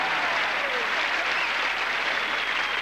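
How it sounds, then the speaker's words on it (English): Studio audience applause on a TV variety show set, a dense steady wash of many hands clapping at once, loud and continuous throughout without a break. "will you get those people to stop applauding?"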